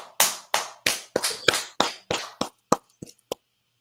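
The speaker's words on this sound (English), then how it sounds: "Let's clap it up for him" Around a dozen sharp, close hand claps from a small group, spaced roughly a third of a second apart at first, then thinning and stopping, with silence between the claps.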